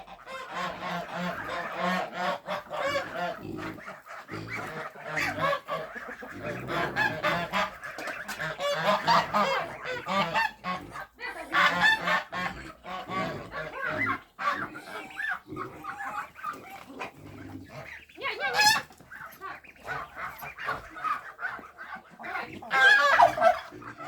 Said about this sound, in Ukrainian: А ці гусі хай додому йдуть